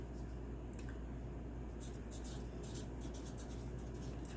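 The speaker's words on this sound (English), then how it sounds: "I'm just going to write in here," A marker writing on a paper tag from a self-rising flour bag, faint brief squeaky strokes near the microphone over a steady low background hum.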